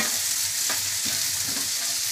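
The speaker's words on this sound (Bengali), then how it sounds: "এগুলো আমি 1 মিনিটের জন্য ভেজে নেব।" Spices, green chilies and curry leaves fry hard in a pan for a Bengali egg masala curry, giving a loud continuous sizzle broken by a few stirring scrapes, close up and with no talk.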